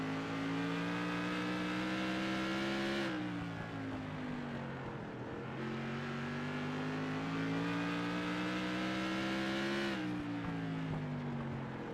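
Onboard the rear wing of the 93 Andrew Payne modified race car in an ASRC Mountain Dew Modified Tour race at Southern National, its engine droning loud and close, pitch rising and falling with each lap's throttle and lift.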